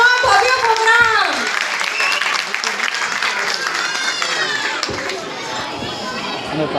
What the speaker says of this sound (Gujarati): ચલો તાળીઓના ગડગડાટથી શરૂ કરીએ આજનો આ ભવ્ય પ્રોગ્રામ.